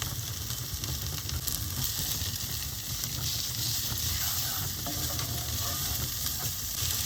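Vegetable mince and paprika frying in a pan, giving a steady, dense sizzle throughout with faint stirring underneath, close and even in level, no one speaking.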